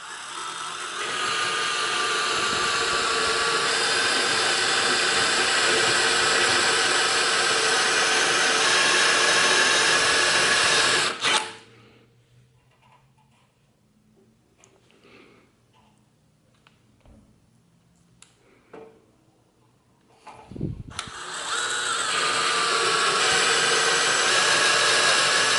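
Power drill cutting out spot welds on the front end of an Integra, a loud steady whine lasting about eleven seconds, then a near-silent pause with faint knocks, then the drill roaring back up.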